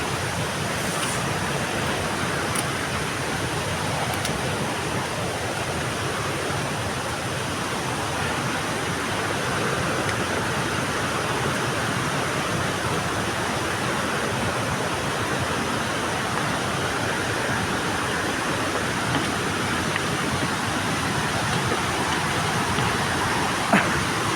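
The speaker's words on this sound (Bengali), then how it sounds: "ঝর্ণাতে মূলত বেশি ঝর্ণার পানি প্রবাহিত হয় যদি বৃষ্টি হয়" Steady, dense rushing of a waterfall fills the whole stretch, constant and unbroken with no voices.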